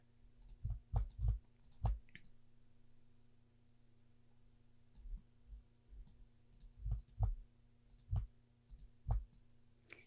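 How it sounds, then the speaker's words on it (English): Mouse clicks from someone working in Blender 4.2.3 software, sharp close taps in quick clusters of two to four with pauses between, over a faint steady computer hum. "I just tend to click a lot until I get what I want"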